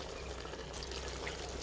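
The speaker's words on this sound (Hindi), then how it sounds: "पानी जो है वो बिल्कुल थोड़ा हमने शामिल किया," A small amount of water is poured into a pan of fried mixed vegetables with cauliflower, a short, close, steady splashing pour.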